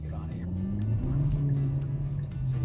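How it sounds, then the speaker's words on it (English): A 2022 Kia Forte GT with GT2 Package accelerating on the road, its engine note rising in pitch over a few seconds, heard from inside the cabin with road noise. "It does not take a whole lot to get this car going."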